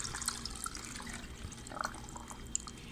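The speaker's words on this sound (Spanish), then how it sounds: "Y le vamos a poner suficiente agua." Water pours steadily into a cooking pot for a meatball and vegetable broth, a soft continuous splashing with small drips, faint and close, with no talking.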